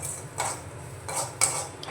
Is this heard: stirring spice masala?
yes